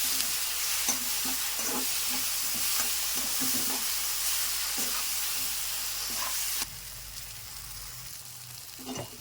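Ground masala paste frying in oil for dum aloo, a continuous close sizzle broken by repeated scraping stirs in an uneven rhythm, then a quieter, steadier hiss toward the end.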